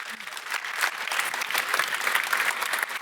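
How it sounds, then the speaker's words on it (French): An audience applauds two invited guests at a science talk on surfing physics, steady dense clapping filling the hall at moderate volume for the whole moment without a break. "nos deux invités, vous pouvez les applaudir"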